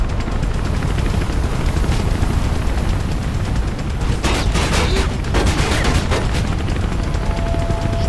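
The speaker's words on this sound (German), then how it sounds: "Die Cops schicken einen Helikopter." Loud, continuous gunfire in the video game Mirror's Edge with rapid bursts over a steady rumbling background, suggesting a police helicopter overhead amid the shooting.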